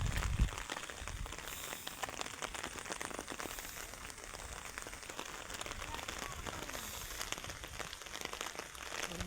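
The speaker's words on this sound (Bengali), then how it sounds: "দেখুন প্রচুর বৃষ্টি পড়তেছে," Heavy rain falls steadily in Palashbari during a downpour, a dense, continuous hiss and patter that stays loud and unbroken throughout.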